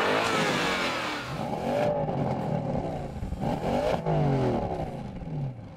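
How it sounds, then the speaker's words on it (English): A Porsche Panamera Turbo S E-Hybrid with a 4-litre twin-turbocharged V8 revs and roars loudly nearby. Its engine note sweeps up and down in repeated surges while the car accelerates. "its V8 can also deliver a roar"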